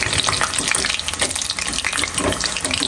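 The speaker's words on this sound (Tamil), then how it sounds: "இப்போ பாருங்கள், நல்ல ஒரு கலரில் பொன்னிறமாக பொரிஞ்சு வருது" Cauliflower pieces deep frying in hot oil until golden, a dense, steady sizzle and crackle filling the whole clip at close range, with no talking.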